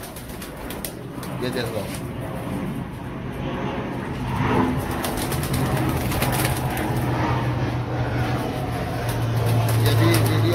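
Pure-quality pigeons at a breeder's loft coo and rustle softly throughout, with occasional wing flaps, while someone talks nearby over them.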